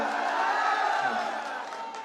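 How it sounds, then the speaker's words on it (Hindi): A large crowd at a Rai programme during a Rahas fair in Garhakota lets out a loud, sustained shout and cheer, a broad roar of many voices that fades slightly toward the end. "हल्ला करो एक बार।"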